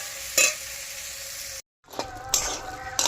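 Chickpeas cooking in masala in a pan for chana masala give a close, steady sizzle broken by several sharp scraping stirs and a short silent gap midway.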